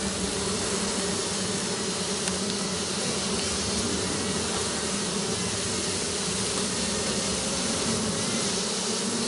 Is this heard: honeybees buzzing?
yes